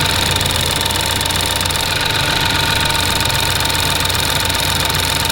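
Modified engine fitted with an aftermarket lifter kit idling loudly and up close, a constant rapid ticking from the lifters riding over the steady engine drone for the whole stretch.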